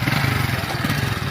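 Motorcycle engine running steadily at a low, throbbing idle during a motorcycle tug-of-war contest, a rough continuous chug with no pauses across the short stretch.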